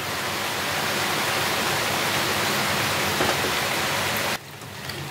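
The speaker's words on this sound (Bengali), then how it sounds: "খুব বৃষ্টি পড়ছে বাইরে, বৃষ্টির আওয়াজটা মনে হয় ভিডিওতে উঠছে।" Heavy rain pours outside in a loud, continuous hiss and patter that drops off abruptly near the end, with no speech.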